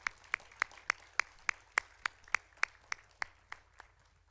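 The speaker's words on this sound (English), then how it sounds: "Let's give them another round of applause." Applause from an audience at a college women's business conference comes through as a steady, evenly spaced run of distinct claps, faint and somewhat distant, with no voices over it.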